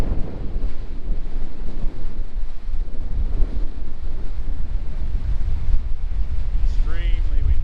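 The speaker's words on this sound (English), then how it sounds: "Extremely windy." Strong wind buffets the microphone in a constant loud roar along a rocky outback track, with a brief bird-like chirp near the end.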